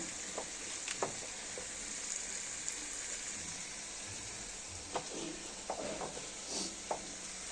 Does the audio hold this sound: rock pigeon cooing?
no